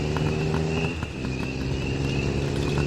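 An auto rickshaw drives along, its engine droning in a steady, close, loud rumble with a brief dip midway before it settles back to an even hum.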